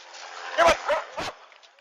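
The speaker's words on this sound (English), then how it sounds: "You're gonna see the best human's friend in action, police dog or K9." Police K9 dog giving a few short, excited barks and yips, three bursts over a steady background hum, with voices mixed in.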